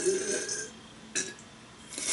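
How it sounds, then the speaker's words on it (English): A person lets out a burp up close after drinking beer, a rough guttural belch at the start followed by a couple of brief noisy bursts and quieter gaps. "maybe get a normal burp out."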